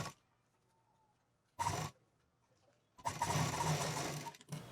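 Sewing machine stitching lace onto a quilted bag, short bursts of rapid mechanical whirring separated by near silence, one longer run near the end, close and fairly quiet.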